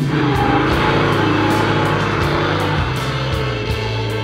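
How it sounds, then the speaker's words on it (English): A heavily modified 1978 Mustang II's carbureted V8 engine runs loudly and steadily at high revs, with a deep, rumbling tone and small recurring surges throughout. "Nothing like a carbureted V8, so let's see how it goes."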